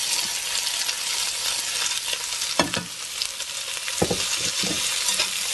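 Cabbage and vegetables fry in oil with a steady, close crackling hiss, while a utensil stirs them and scrapes the pan in a few distinct bursts.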